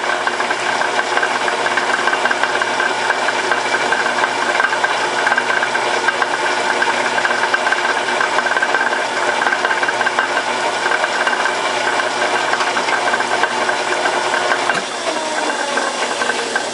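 A metal lathe takes a light scratch pass while threading custom adapters at 20 threads per inch, giving a steady mechanical whir with a faint ratcheting edge that runs without pause for about seventeen seconds, with no talking.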